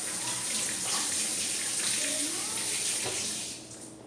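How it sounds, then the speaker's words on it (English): Orange habanero peppers are rinsed under a running kitchen tap, making a steady, close gush of water that holds evenly and then eases off slightly at the end. "So I'm rinsing this off."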